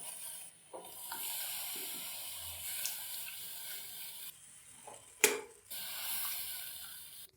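Milk poured into plain flour roasting in a hot pan gives a soft hiss and bubbling sizzle in several quiet waves, with a sharp clink near the end; no speech.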